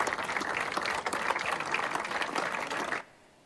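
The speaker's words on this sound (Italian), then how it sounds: "I manifestanti hanno lanciato un applauso di incoraggiamento verso il CPR" Protesters outside the CPR detention centre in Pozzallo clap together in a sustained burst of dense applause that stops abruptly near the end, leaving a quiet tail.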